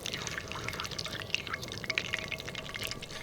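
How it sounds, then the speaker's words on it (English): Water droplets spit and crackle in hot frying oil used for deep frying fish, a dense steady sizzle of tiny pops heard alone at moderate volume. "When the water starts to boil like that, it's because the oil's hot, and oil and water don't like to mix together"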